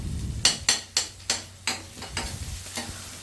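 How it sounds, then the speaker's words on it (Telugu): Chopped onions frying in a pan for a semi-gravy bottle gourd masala curry, with a spatula scraping and stirring in about eight quick, evenly spaced strokes over a soft, steady sizzle. "ఆనియన్ కొంచెం ఫ్రై చేసుకోవాలి,"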